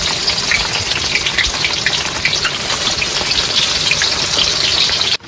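Chicken meat frying with potatoes and onion, cooked outdoors by a river: a steady, dense hiss that holds evenly for about five seconds before cutting off abruptly, with no talking.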